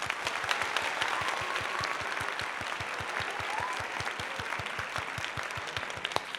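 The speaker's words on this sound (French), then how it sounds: "Je continue d'applaudir." Steady rhythmic hand clapping continues without pause, close and fairly loud over a hissy room background, with no talking.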